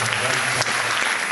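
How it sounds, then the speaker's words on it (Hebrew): Applause from an audience at a 2015 dance troupe competition, dense steady clapping filling the whole moment, loud and close, with crowd noise mixed in. "מחיאות כפיים."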